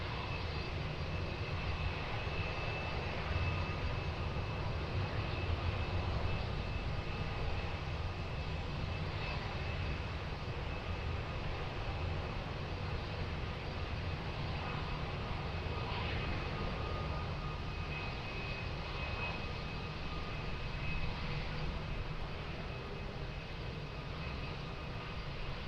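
Airplane engine roaring steadily at Lisbon Airport on runway 20, a continuous loud drone with a broad rumble and a thin high whine holding for the whole stretch, no voices over it.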